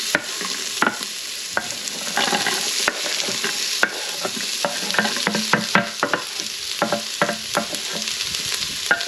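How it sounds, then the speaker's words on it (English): Celery and carrots sauté in hot olive oil in an Instant Pot, with a bright, steady sizzle broken by frequent stirring scrapes and clicks, close and fairly loud throughout. "now that we have our olive oil in there heating up, we are going to add our celery and our carrots"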